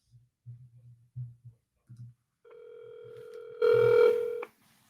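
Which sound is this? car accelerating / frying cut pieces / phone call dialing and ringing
phone call dialing and ringing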